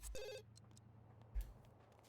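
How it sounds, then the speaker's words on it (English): A telephone in a life-simulation video game gives one short electronic ring right at the start, fairly faint, followed by a quiet room hum. "I wonder if that's Johnny on the phone."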